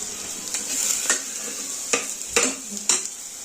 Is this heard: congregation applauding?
no